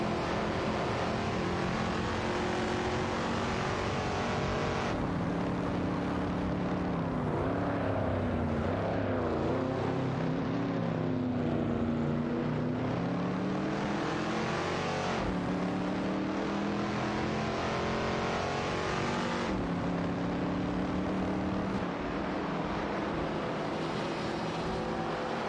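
Race car engines from an AI racing video game roar continuously and loudly, pitch rising and falling through gear changes and passes over a sustained drone.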